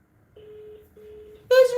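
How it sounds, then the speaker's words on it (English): Phone call ringing on a handset: two steady electronic ring tones, then a louder, richer tone at the end, close and clear over a quiet background. "It's ringing."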